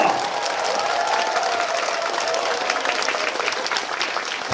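A magic show audience at a Songpa-gu district office event gives steady, dense applause that fills the whole stretch evenly at a fairly close distance, with no voices over it.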